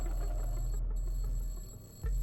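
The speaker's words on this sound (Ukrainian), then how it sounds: "Це ж будильник дзвонить." Alarm clock ringing in the video game Drooms, a steady electronic tone over a low hum that drops out near the end, faint and without talk.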